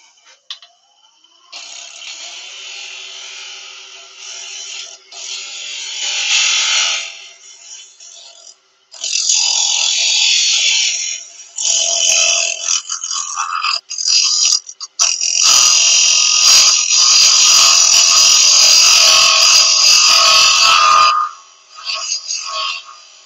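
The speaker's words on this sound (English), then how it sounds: "A bit of scraping on this top bit." A scraper working the top of a wooden goblet-style candle holder spinning on a lathe, giving a loud, sustained rasping scrape in several long passes with short pauses between, heard alone without talk.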